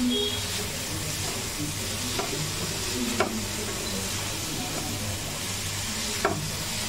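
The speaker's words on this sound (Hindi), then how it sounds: "तो हम इसमें डाल देंगे अपने पोहे।" Washed poha tipped into a hot pan for Ujjain-Indore style poha, giving a steady close sizzle with a few sharp utensil clicks and stirring scrapes over about seven seconds, no voice over it.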